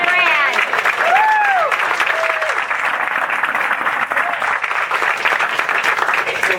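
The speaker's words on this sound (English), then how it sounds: "we first of all need to give a big round of applause" A Wisconsin campaign victory center crowd gives a sustained round of applause, dense clapping at a steady, loud level throughout, with a few voices and a whistle-like cheer rising over it early on.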